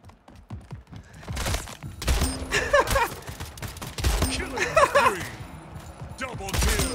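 Shotgun blasts in the arena shooter Splitgate, several rapid heavy booms in bursts with game sound effects layered between, loud and close, with a voice talking over the action.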